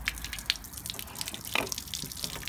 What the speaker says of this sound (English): That water's coming out nice and clear, which is good, and lots of it.